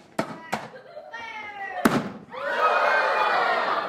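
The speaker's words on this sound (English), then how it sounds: "That's why we call it the liquid nitrogen cannon." A corked liquid nitrogen cannon fires in a lecture hall with several sharp bangs, and a crowd then breaks into sustained cheering and applause, with a voice heard between the bangs.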